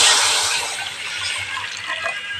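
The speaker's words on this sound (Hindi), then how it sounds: "इधर देखिए मेरा पानी है तो भी दे देते हैं" Water poured into a kadhai on the stove before boiling bitter gourd, a steady close splashing pour with a broad hiss that runs the whole time and eases off slightly toward the end.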